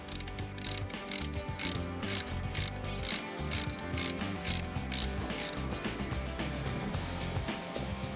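A ratchet wrench clicks steadily as screws are loosened on a rear axle hub, a fast, even run of close, loud pawl ticks that carries on unbroken throughout.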